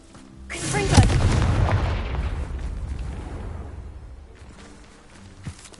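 A Confringo fire spell from Hogwarts Legacy goes off in a single loud, deep blast that rumbles and slowly fades over several seconds, with a small crackle near the end.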